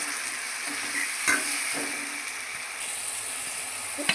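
A spoon stirs and scrapes through fish curry sizzling with tomatoes and coriander powder in a pan, a continuous frying hiss with a few sharp scrapes along the way.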